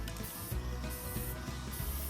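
Spray paint hisses in short, close bursts as the back side of a 1973 Triumph TR6 front grill is coated, with a steady airy rush between puffs.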